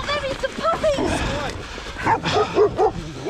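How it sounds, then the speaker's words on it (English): Dogs and puppies bark, yip and whimper close by in a busy cluster of calls, with excited human shouting mixed in. "Get your dogs off me."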